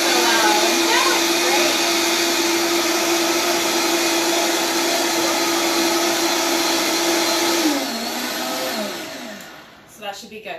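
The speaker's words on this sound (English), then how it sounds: "In a Vitamix, yes." A Vitamix blender runs loudly with a steady, roaring whine for several seconds, then winds down and stops, leaving a few faint clunks.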